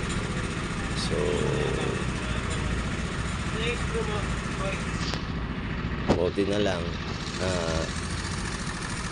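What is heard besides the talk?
Yamaha Mio scooter engine idling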